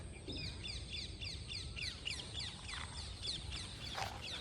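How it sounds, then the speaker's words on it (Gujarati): Several birds, including a peacock, chirp and call repeatedly at a distance over a low background rumble, with a brief louder cry near the end. "પક્ષીઓનો અવાજ મોરનો અવાજ"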